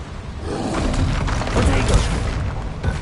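A Confringo fire spell explosion from the video game Hogwarts Legacy booms loudly amid continuous battle noise. Heavy thuds and crackling bursts carry through the full three seconds.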